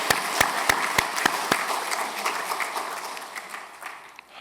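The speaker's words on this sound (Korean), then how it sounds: "큰 박수로 환영해 인사드리겠습니다." Church congregation clapping in welcome during a Sunday service, a burst of sharp claps at the start thinning into a dense patter that fades away, fairly close.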